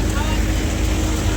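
A tractor engine runs in a groundnut field, a loud, steady low rumble with wind buffeting the microphone, heard close by and continuous throughout.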